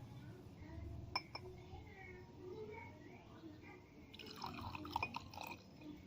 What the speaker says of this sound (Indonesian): Pertama-tama kita masukkan air ke dalam minyak goreng.